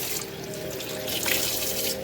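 Tap water runs steadily into a kitchen sink during hand dishwashing, a continuous close splashing stream that swells slightly toward the end, with no talking.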